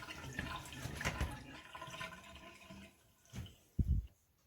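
Boiled pasta draining in a strainer, a soft wash of running water and drips at moderate level, ending in a couple of louder splashy bursts near the close.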